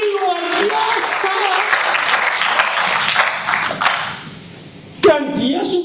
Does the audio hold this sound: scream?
no